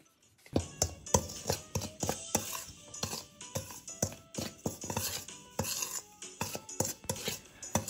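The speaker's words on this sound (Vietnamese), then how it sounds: "Mình sẽ đổ hết bột vào trong một chiếc âu lớn để trộn đều bột lên." Glutinous rice flour, plain rice flour, sugar, salt and baking powder being stirred together in a large bowl, giving a steady run of sharp clinks and scrapes of utensil against the bowl, close and fairly quiet.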